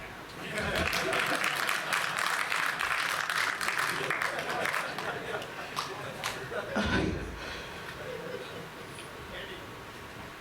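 Audience applause at a Kannada film event, a dense wash of clapping that swells loud through most of the stretch and then thins toward the end, with some crowd noise mixed in.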